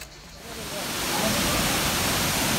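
The Galgamaç waterfall, heard from a vantage point above, gives a steady broadband rush of falling water that swells slightly and then holds constant.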